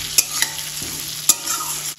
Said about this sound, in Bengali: ভালোভাবে তেলের সাথে আবার একটু নেড়ে চেড়ে নেব